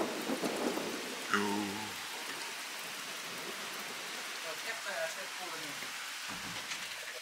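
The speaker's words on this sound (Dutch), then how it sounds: "nu regent het" Summer thunderstorm with rain falling and thunder rumbling, a steady wash of rain with low rolls of thunder, while people talk quietly in Dutch at moments.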